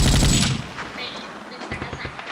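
Rapid automatic gunfire bursts in the Vietcong 2 video game, a loud opening blast followed by a rattling stream of shots fading slightly, dense and close over a couple of seconds.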